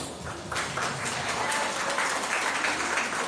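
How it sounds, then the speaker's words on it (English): Steady, fairly quiet applause from a conference audience of colleagues thanking a lecturer, continuous and evenly spread across the room. "please give him a big applause"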